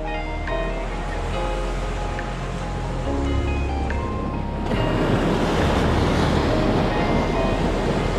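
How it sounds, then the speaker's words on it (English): Surf from a big ocean wave breaking on a rocky Northern California shore during rockfishing, a steady wash of water that swells louder and fuller partway through, with wind noise over the microphone. "Oh, big wave."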